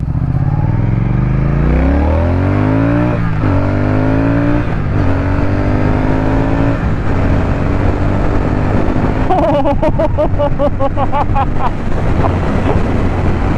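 A Triumph Speed Twin motorcycle engine revs hard on a first ride, its loud pitch climbing and dropping through several rises, with heavy wind buffeting the microphone throughout.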